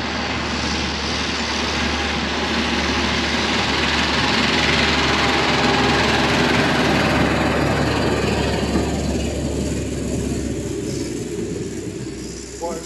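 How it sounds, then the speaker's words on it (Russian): A large tractor passes by outdoors, its engine a steady loud rumble that swells toward the middle and then gradually fades as it moves away. "Большой трактор проехал."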